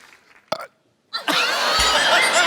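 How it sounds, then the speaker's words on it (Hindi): A single short, loud burp after a cold drink, heard up close on a comedy show stage, followed by a burst of audience laughter and applause. "हम कोल्ड ड्रिंक पिया था, डकार लेना भूल गए थे, अभी याद आया।"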